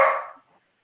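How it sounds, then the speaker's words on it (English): A single short dog bark sounds in the background of a home setting, one clipped yelp that fades out quickly on its own. "That's my dog in the background."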